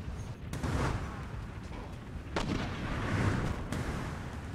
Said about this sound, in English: Oh, the mortar crews have returned.